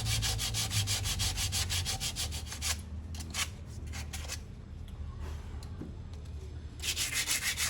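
Sandpaper scrubs back and forth over a rusty brake caliper from a 2004 Toyota Matrix, a close, steady abrasive rasping that runs almost continuously and softens briefly in the middle before picking up hard again.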